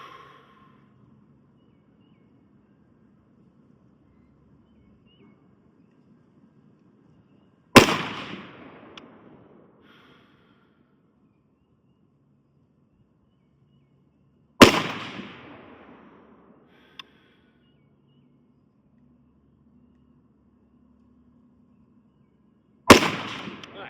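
Three sharp, loud AR-15 rifle shots with Federal ammunition ring out several seconds apart outdoors on a cool day, each cracking and then decaying quickly into near silence, with faint low background noise between.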